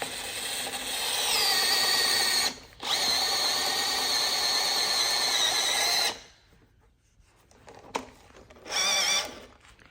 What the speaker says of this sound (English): no matter how much bending or moving I do at this stage, I'm not going to get that drill bit to deviate